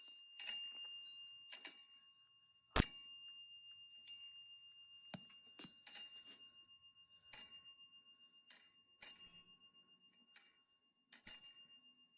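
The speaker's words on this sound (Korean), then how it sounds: "이 저주받은 전화기는 전원이 없어도 울립니다" An old telephone taken apart down to its bare frame rings with a series of sharp metallic bell strikes, each leaving a lingering tone, spaced irregularly and fairly quiet, with no talking.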